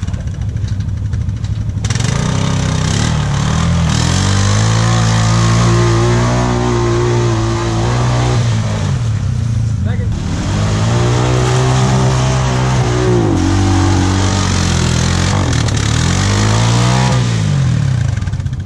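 Side-by-side UTV engines rev hard and loud on a muddy mud-bog trail, pitch rising and falling in repeated surges with no voices, several machines grinding through close by.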